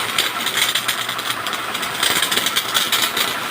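A small power sprayer engine runs steadily with a buzzing, rattling drone and a loud hissing spray, continuous throughout with slight surges.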